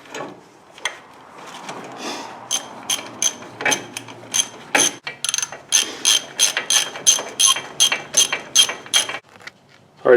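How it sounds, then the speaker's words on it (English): Ratcheting wrench removing bolts from a vehicle steering knuckle to pull the axle shaft assembly, a close run of quick metallic clicks in repeated bursts, growing regular toward the end, with no talk. "So we're going to take them bolts off, that way we can go and pull the whole axle shaft assembly out."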